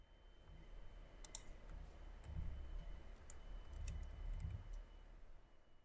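Calculator keys are pressed in a quiet room, a handful of faint separate clicks scattered over several seconds against a low steady hum, no talk.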